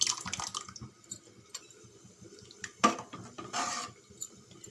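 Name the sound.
sambar boiling in a pot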